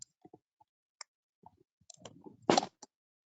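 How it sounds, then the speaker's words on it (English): A headset being unplugged and swapped: scattered small plastic clicks and taps, close and quiet, ending in a louder rustling clatter of handling, with no talking. "I'm going to change my headset."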